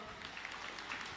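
An audience at an astrology gathering claps in a steady spread of applause, faint and distant, with the rapid patter of many hands and no single clap standing out.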